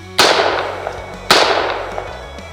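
Two sharp rifle shots crack out about a second apart at a shooting range, each loud and close with a quick decaying tail.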